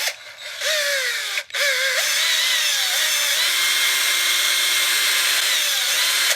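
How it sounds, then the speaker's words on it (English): Power drill with a bit, run at reduced speed to grind old epoxy out of a golf shaft adapter; a steady, close whine with pitch sweeps early on, a brief dropout near 1.5 seconds, then continuous drilling to the end. "Take a drill with your bit on it. Back the power down some."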